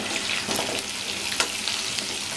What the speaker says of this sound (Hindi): अब मैं इसमें आलू डाल दूंगी